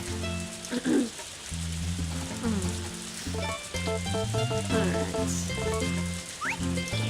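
Rain in the farming video game Harvest Moon: A Wonderful Life, a soft steady patter under tonal background music, with a brief spoken word from a player.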